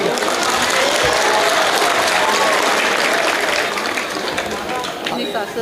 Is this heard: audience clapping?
yes